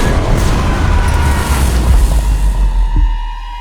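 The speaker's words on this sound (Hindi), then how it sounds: "बेसिलिका के साथ साथ इसे बनाने वाला इंजीनियर ओरबन भी इसके फटने से फौत हो गया" A sound effect portrays the giant bronze cannon Basilica bursting after its overheated steel cracked: a loud, deep, rolling boom with sustained rumbling that holds for several seconds before tapering slightly, heard alone.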